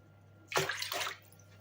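A short splash of water pours into a bowl already holding tomato juice, a brief gush lasting under a second, close and fairly quiet.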